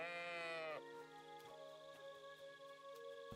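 A sheep in Kingdom Come: Deliverance 2 gives one drawn-out, wavering bleat up close, then fades into a steady tonal background with faint soft ticks.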